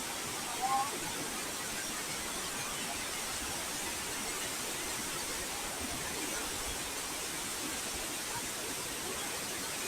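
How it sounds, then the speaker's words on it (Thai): A powerful waterfall at Haew Narok in Khao Yai, running with heavy flow, gives a loud, steady roar of rushing water that fills the whole clip without a break. "วันนี้ปริมาณน้ำเยอะแล้วก็น้ำตกแรงมาก"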